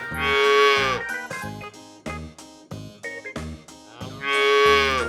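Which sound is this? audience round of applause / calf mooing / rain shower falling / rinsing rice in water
calf mooing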